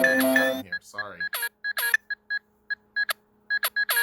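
A phone beeps repeatedly while updating, short tonal beeps in an irregular series, close and clear, after a brief stretch of speech at the start.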